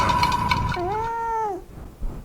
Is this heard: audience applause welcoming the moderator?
no